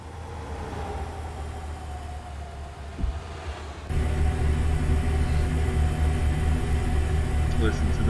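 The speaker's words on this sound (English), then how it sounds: "That's the engine sound, ISX engine, and the interior noise as well as outside." A Peterbilt 389 truck's ISX engine in American Truck Simulator drones steadily with a low rumble, growing louder partway through as the sound shifts, with faint voices underneath.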